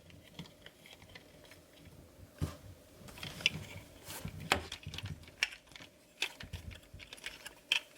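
Small plastic clicks and rattles as the tail of a Transformers Earthrise Skylynx toy is folded out and parts snapped into place, quiet and close with irregular taps.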